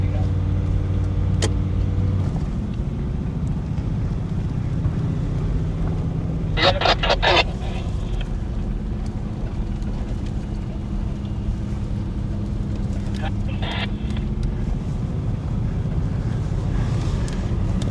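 JDN Racing's loud number 48 off-road vehicle roars at an outdoor rock-crawling event, a sustained heavy engine drone buffeted by wind noise with brief bursts of sharper sound.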